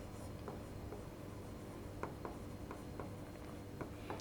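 Handwriting with a pen on paper while an accounting entry is written out, a quiet close scratch with short strokes and taps scattered over a soft steady room hum, no speech.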